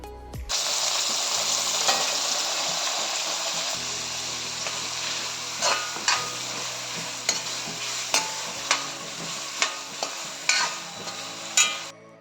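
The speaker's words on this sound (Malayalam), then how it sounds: "ഇതിലേക്ക് ചെറുതായി എരിഞ്ഞ നല്ല പഴുത്ത തക്കാളി കൂടി ചേർത്ത് കൊടുക്കുക" Ripe tomatoes fry in a pan for a brinjal pickle, producing a steady broadband sizzle with regular light clicks and scrapes from stirring, close and fairly loud, with no voices.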